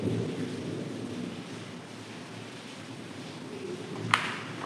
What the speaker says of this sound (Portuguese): aqui tá caindo um chuvão. Talvez vocês vão escutar aí o barulho da chuva